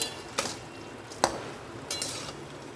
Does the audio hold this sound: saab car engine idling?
no